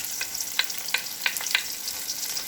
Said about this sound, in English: So we're going to sort of saute this for a minute.